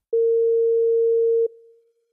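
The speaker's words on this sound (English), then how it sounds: "the last word or group of words has been replaced by a beep" A single steady pure-tone beep of about one and a half seconds stands in for a word in a spoken listening-test recording, cutting off sharply and leaving a faint fading tail.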